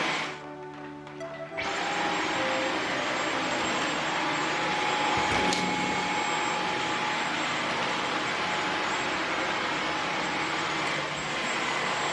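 A Dyson cordless stick vacuum starts up and runs steadily with a loud, even whirring hum, continuing without pause.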